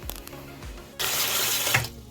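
A household faucet opened to drain hot water from a gas water heater gushes in a close, steady hiss for about a second, after a few faint knocks, then cuts off.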